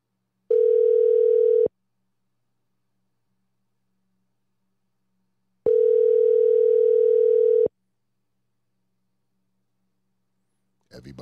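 A telephone dial tone sounds in two steady tones of about a second and two seconds, separated by silence, with a brief noise at the very end.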